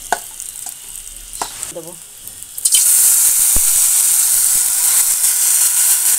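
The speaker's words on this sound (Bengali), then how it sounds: "এগুলো আমি অল্প অল্প করে ভেজে নিচ্ছি, নিয়ে এর মধ্যে জল দিয়ে দেবো" Soaked rice frying in a pan, with light stirring and scraping under a voice, then a sudden loud, steady hiss of steam as water is poured into the hot pan and keeps sizzling.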